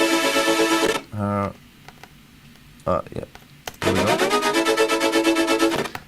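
Layered Serum and Sylenth synths with a stutter effect play in loud rhythmic bursts, a sustained chopped chord stabbing in regular pulses at the start and end, with brief speech and a short gap in between.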